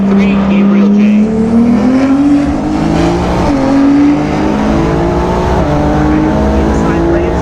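Drag race cars, including a Nissan GTR, launch down the strip at Maple Grove Raceway, a loud rising engine roar that climbs in pitch over several seconds, with an announcer talking over it.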